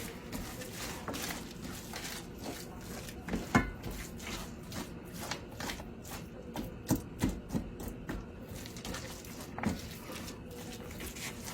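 Frozen peas and carrots tumble into a pot of cooking celery and onions in a home kitchen, giving scattered soft clicks and rattling taps with a few sharper knocks over quiet background.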